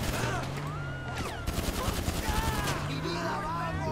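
Rapid gunfire in GTA 5 Online crackles in dense bursts through the middle of a short firefight, while whistling tones and other game sounds run underneath.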